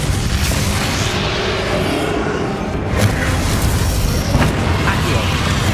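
Booming Bombarda blasting spell explosions in Hogwarts Legacy during the fight with Ranrock: a dense, loud, rumbling roar with sharper bursts around the middle and near the end, under talk.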